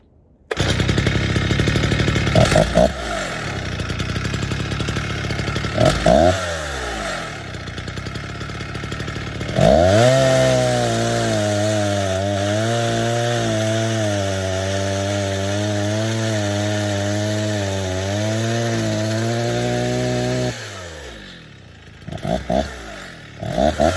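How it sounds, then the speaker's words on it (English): A restored 1960s chainsaw idles, revs in bursts, then bites into a log with a loud sustained growling cut for about ten seconds before dropping back to idle, close and alone. "I'll just take a piece of log and show you that it works"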